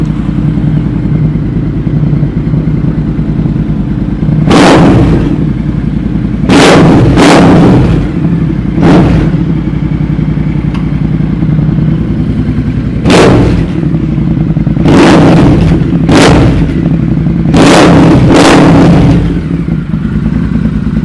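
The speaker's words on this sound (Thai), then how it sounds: "เดี๋ยวผมอยากจะให้ลองฟังเสียงท่อใบนี้ดูนะครับ" A Triumph TTR1200 motorcycle idles with a deep steady rumble through its exhaust, punctuated by about eight short sharp throttle blips, loud and close.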